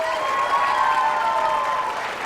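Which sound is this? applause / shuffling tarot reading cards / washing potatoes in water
applause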